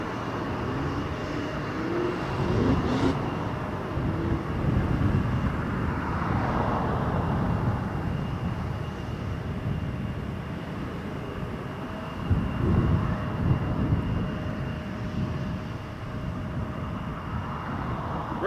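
An airplane on its takeoff roll at Toronto Pearson Airport gives a broad, steady engine roar with a faint tonal whine. The sound stays at a constant loudness throughout, heard from a distance.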